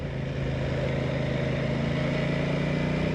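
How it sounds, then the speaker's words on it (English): An Aprilia Tuono 660 Factory motorcycle engine runs steadily under throttle in commute mode, a continuous close drone holding even in level without voices over it. "if you get on the throttle, even on commute mode, this bike gets fast very, very quick"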